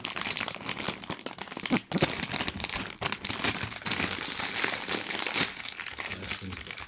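A crisps packet crinkles and crackles steadily up close as it is opened, with a few sharper tearing bursts, while a person talks over the rustling.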